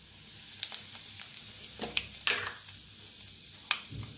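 Half a spoon of mustard seeds with cumin drops into hot oil in a heated kadhai, giving quiet, scattered crackles and sharp little pops with no voices.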